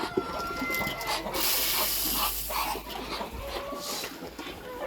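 Hungry domestic ducks, a pair of females and drakes waiting for food, call repeatedly in a noisy barnyard, their calls overlapping one another continuously and fairly close.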